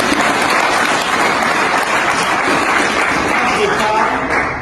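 A crowd at a rebel gathering breaks into loud, sustained applause and cheering, dense clapping filling the whole stretch evenly, close and continuous with voices mixed in.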